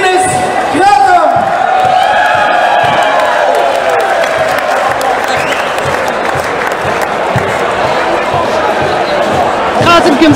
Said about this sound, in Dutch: En daarom een goed applaus voor de gedeelde derde plaatswinnaar, Sint-Severinus Gratum.